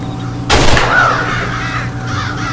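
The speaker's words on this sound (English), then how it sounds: "We gotta scare the crows, so I just gotta shoot them" Crows cawing in the video game Red Dead Redemption on a cornfield farm: a loud sharp burst, then a single raspy caw rising over steady game ambience, with further fainter calls later.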